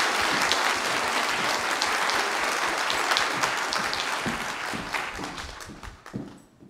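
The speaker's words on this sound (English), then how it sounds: "doesn't she need a round of applause?" A church congregation at a Sunday morning service claps in a round of applause honoring a woman's ten years of service, full at first and then gradually tapering off into scattered claps.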